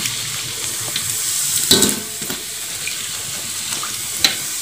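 Thick rangginang rice crackers made from leftover rice sizzle in slightly overheated oil, with a steady close crackle, a louder burst of spitting early on and a sharp pop near the end, no voices.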